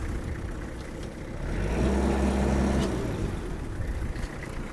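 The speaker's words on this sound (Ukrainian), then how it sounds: "Ось так працює фреза, можу навіть додати обертів" A Kubota L1-325 Hi Speed mini tractor runs its rotary tiller, the engine humming steadily, then rising in a swell of revs before easing back slightly.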